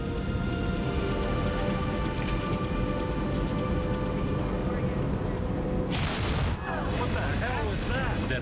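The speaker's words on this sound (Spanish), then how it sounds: "De repente, una violenta explosión sacude el avión." A violent explosion rocks an airliner in flight during a documentary reenactment of the Sioux City emergency landing: a dense, loud roaring rumble fills the scene, then a sharp burst with a voice speaking over the tail.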